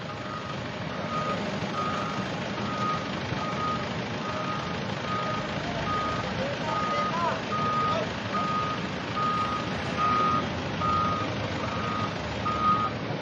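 Forklift reversing alarm beeping in a steady repeating pattern at a truck accident scene on C5 Kalayaan, where a toppled truck loaded with chicken manure blocks the road, over constant loud traffic and engine rumble.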